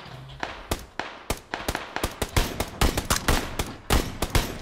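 Rapid video game gunfire in a first-person shooter, a long run of sharp, loud cracks in uneven bursts, some single shots and some fast clusters, close and dominant with no talking.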